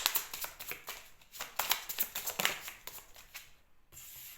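Tarot-style cards being shuffled and drawn during a reading, a quick run of soft close flicking riffles and slides that fades toward the end, fairly quiet with no talking.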